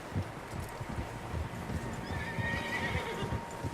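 Several horses neigh and whinny with hooves clip-clopping across the ground in the open-world Western game Red Dead Redemption 2, the calls fairly close over a steady outdoor bed with a brief high whine in the middle.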